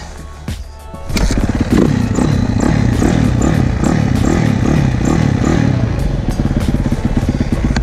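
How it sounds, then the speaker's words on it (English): A 2007 Yamaha 450F dirt bike fitted with a Timbersled-style snow bike kit fires up after a few clunks, then runs loud and close with a rapid, choppy single-cylinder idle and light throttle blips in snowy mountain terrain. "2007 Yamaha 450F with a two moto Radix kit."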